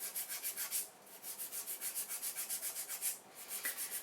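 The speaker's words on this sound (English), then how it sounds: "So now I'm going to work on filing this side in to match the other." A hand file works across a hard gel acrylic nail extension in quick, even back-and-forth strokes, a close, steady scratchy rasping with one brief pause.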